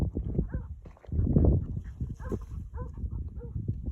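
A hunting dog barks and yelps in short bursts amid rustling and movement outdoors during a wild boar hunt, with one louder stretch of commotion as it corners the boar.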